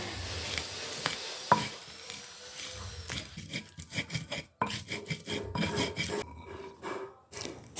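Spices with shrimp paste and salt being ground in a stone mortar and pestle for Indonesian sayur asem, close scraping and rasping strokes in irregular bursts with brief pauses, no talking.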